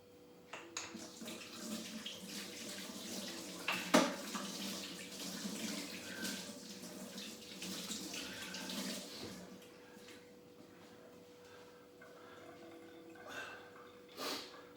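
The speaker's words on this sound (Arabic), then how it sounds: "نغسل يديا." Tap water runs steadily as hands are washed at a sink, with faint splashing and rubbing over the flow. Near the end the water is turned off, leaving a quieter tail.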